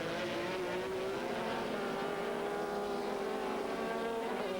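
Race cars including a GTS Viper, BMW, Porsches and an Audi during an American Le Mans Series race in 2000, a steady engine drone carrying faintly from a distance without voices.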